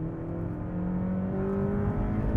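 A Honda Civic Type R engine revs past 8,000 RPM and holds a loud, sustained roar with a rising whine, close by and without talking.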